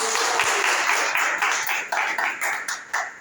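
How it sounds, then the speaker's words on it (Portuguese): A church congregation claps together in steady rhythm during worship, a dense wash of hand claps filling the room with a few sharper accents toward the end. "As palmas do Senhor."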